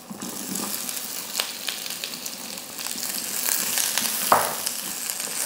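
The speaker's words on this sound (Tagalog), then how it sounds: "Once na mainit na, igisa na natin kagad yung sibuyas" Onions sautéing in hot oil in a wok for a creamy beef curry: a steady, soft frying sizzle with occasional stirring scrapes and a brief louder clatter near the end.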